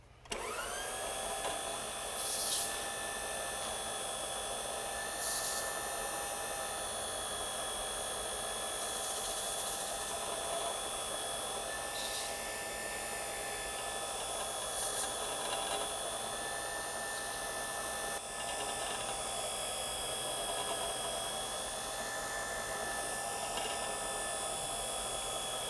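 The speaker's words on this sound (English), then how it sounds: "we've just recently sanded our Duraamen 5500 self-leveling overlay cement" A floor sander grinds a Duraamen 5500 self-leveling concrete overlay cement floor laid over radiant heating, a loud, steady motor whine with a constant hum that runs unbroken and close for the whole stretch.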